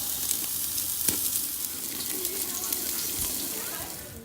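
Ribeye steaks sizzling on an Otto Wilde high-heat grill at around 1500 degrees, a steady crackling hiss with sharp pops and spits, fairly faint and even throughout.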